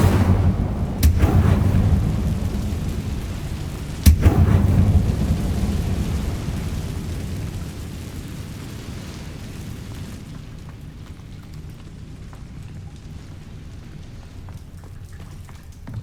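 An Incendio fire spell cast in a Harry Potter video game, two deep booming bursts followed by a low rumbling roar that slowly fades, loud and close, with no voices.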